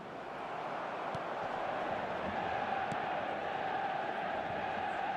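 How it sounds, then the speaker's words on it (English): Stadium crowd in eFootball 2026 keeps up a steady, distant roar of murmuring and faint chanting, with a few soft thuds, and a commentator's voice runs over it. "the crowd have tried to spark some excitement, but to no avail"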